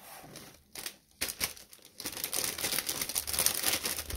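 Loud crinkling of a plastic bag being crumpled and squeezed while garlic and salt inside are crushed in a home kitchen, in uneven close bursts that grow denser and continuous toward the end.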